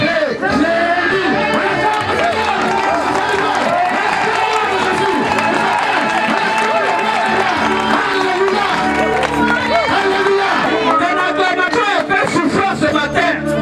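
A church congregation cheering and acclaiming in worship, a loud crowd of overlapping shouts and voices with applause, sustained and dense throughout.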